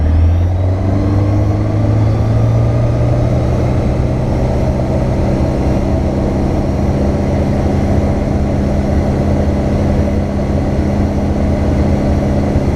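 Aircraft engine in a cockpit runs up to 4,000 RPM, a loud, steady droning roar with a deep rumbling tone that rises slightly in pitch, continuous throughout with no pauses.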